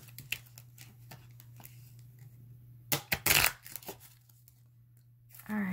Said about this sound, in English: gonna figure out how to shuffle these